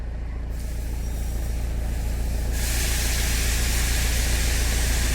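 A Tata Safari Storme diesel engine idles with a fault, a steady loud broadband rumble and hiss that grows brighter partway through, with no talk.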